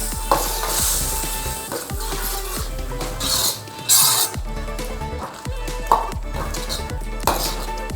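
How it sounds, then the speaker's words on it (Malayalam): Boiled chickpeas and their water going into a pan for chana masala, giving a loud steady sizzle and bubble with stirring clinks and scrapes throughout, close up. "ബോയിൽ ചെയ്ത ചെന്ന, ബാക്കിയുള്ള വെള്ളവും ചെന്നയും കൂടി ഇതിലേക്ക് ആഡ് ചെയ്യാം"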